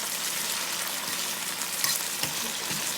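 Beef strips stir-fried in a hot pan, with a steady close sizzle of frying meat and scattered scraping clicks as the pieces are constantly stirred, no talk.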